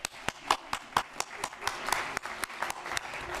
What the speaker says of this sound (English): Told you I'd get you some applause